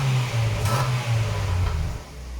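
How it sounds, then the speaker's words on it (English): Ford Focus engine idling and revving lightly through a newly fitted exhaust, a low burbling drone with a couple of modest rises and falls, close by and without talk. "Sound check. New exhaust."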